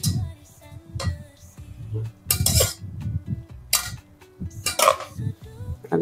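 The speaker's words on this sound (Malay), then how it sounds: "Agak bising sikit ya, periuk ni agak sedikit bising." Metal utensils scrape and clank against a noisy pot in irregular bursts while stirring bean sprouts, loud clattering strokes with short pauses between them.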